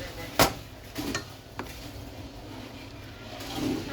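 A utensil scrapes and clinks against a pot while turkey and noodles are stirred, a few sharp metallic knocks then softer scraping, close and moderate.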